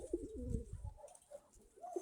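Soft, low cooing of a Krymaky pigeon, a couple of quiet throaty coos close by in an otherwise calm setting.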